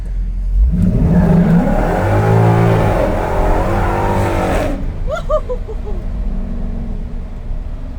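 A 1965 Ford F100 pickup with a swapped-in Ford Coyote V8 accelerates hard: a loud, close engine roar climbs and revs for several seconds, then cuts off abruptly, leaving a quieter idle with brief squeaks.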